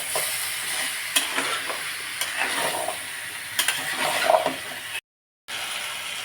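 Chopped capsicum, papaya and green chillies fry in a pan, giving a loud, close sizzle with scattered scrapes and taps of a stirring spatula. The sound drops out briefly, then the frying continues.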